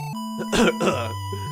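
A couple of harsh coughs in the video game Mother (Earthbound Zero) rise over a steady electronic game tune with sustained tones, close and fairly loud.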